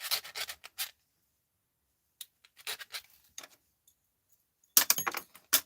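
Small stainless steel pieces rub and scrape against a magnet, making clusters of light metallic jangling and scratching separated by stretches of near silence.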